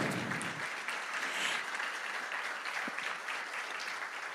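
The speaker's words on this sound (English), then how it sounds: "Let's give Dr. Wendy Davis and Lynette another round of applause." Audience applause following a lecture, a steady wash of many hands clapping at moderate distance, sustained throughout without talk.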